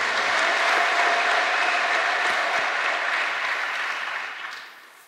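A church congregation applauds in praise of the Lord with a faint trilling ululation mixed in, a steady wash of clapping that tapers off near the end.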